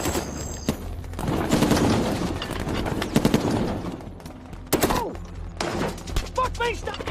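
Bursts of heavy gunfire from a war film crackle and boom in rapid volleys, loud and close, with brief gaps and scattered shouting in between.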